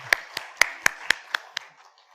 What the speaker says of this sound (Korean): 우리 장로님 위해서 잘 다녀오시라고 박수하시기 바랍니다.